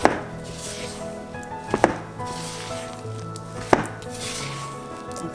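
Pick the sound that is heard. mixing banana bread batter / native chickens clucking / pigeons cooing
mixing banana bread batter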